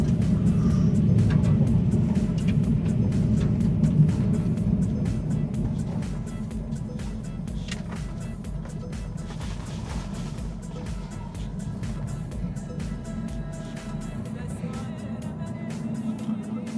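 A Tesla Cybertruck fitted with smaller wheels cruises at 35 mph, filling the cabin with a steady low road rumble and tire hum that eases slightly partway through, with faint ticks and knocks over it.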